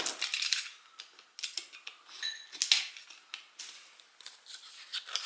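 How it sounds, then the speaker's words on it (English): A cardboard mystery box with pumpkin stickers being opened close by, a run of crisp tearing, crinkling and scraping bursts at an uneven pace, with no voices. "So we'll open up the box."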